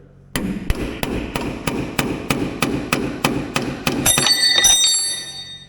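Chisels hammered into parts of a 1942 Caterpillar road grader, a string of about a dozen sharp metallic hammer strikes in a regular rhythm, loud and close, ending with a few ringing taps.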